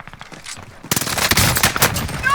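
Bursts of automatic gunfire in Call of Duty Warzone Rebirth, quiet scattered shots at first, then loud rapid fire that keeps going to the end.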